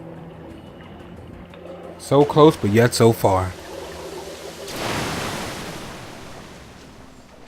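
River water rushes in the video game Metro: Last Light Redux, a broad, surf-like swell rising after a short spoken line and then settling into a steady wash.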